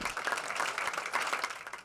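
A crowd at a city commission meeting applauds after a 3-2 vote approving the Bayfront master plan. The clapping is brief, dense and indoors, at moderate volume.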